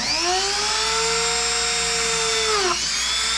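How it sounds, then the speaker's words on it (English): A rotary trimmer whines at a high, steady pitch as it drills a hole in the body shell of a Traxxas Bandit RC car, then winds down near the end. "I'm gonna put one little hole with this trimmer"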